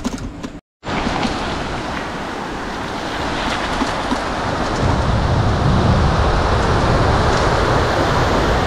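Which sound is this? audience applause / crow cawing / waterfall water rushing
waterfall water rushing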